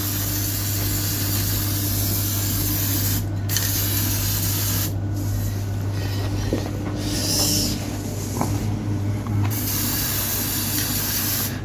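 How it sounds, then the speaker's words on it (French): An aerosol spray paint can sprays onto a Renault Twingo as it runs out, a loud steady hiss with short breaks and sputtering bursts over a constant low hum. "Voilà, la bombe se termine, on va la finir dessus."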